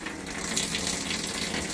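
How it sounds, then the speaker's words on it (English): Hot water runs from a camper tap during winterizing, a steady, close rushing stream without pause and with no voices. "We're going to turn the hot water on."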